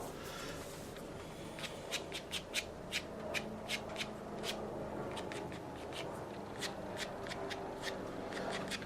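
Quick scratchy strokes of a card dragged across wet watercolour paint on paper, a string of close, soft scrapes repeating at an uneven pace over a faint background hiss.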